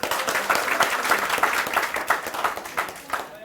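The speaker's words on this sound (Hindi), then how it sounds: "यहाँ बच्चे ताली बजाएंगे।" Children in a classroom clap together in a lively, uneven burst of many hands, loud and close, with rapid overlapping claps that pulse for a few seconds before thinning out.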